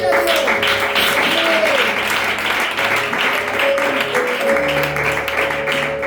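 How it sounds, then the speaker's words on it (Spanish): A church congregation in Granada Sur claps loudly and continuously, with sustained musical tones and voices under the applause. "Fuerte aplauso a la palabra del Señor."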